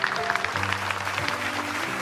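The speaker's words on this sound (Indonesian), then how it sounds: "Kita berikan tepuk tangan sekali lagi untuk mereka." Audience applause at a televised charity program, a moderate, steady patter of clapping blended with background music tones for a couple of seconds.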